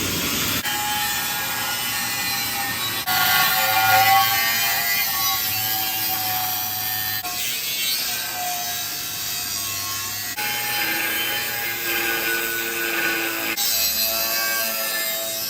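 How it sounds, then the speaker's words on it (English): An angle grinder cuts a traced metal piece clamped in a vise, a continuous loud high grinding whine that shifts in pitch as the disc bites, with brief breaks, during work on a Jeep TJ. "I'm gonna cut it out with a grinder"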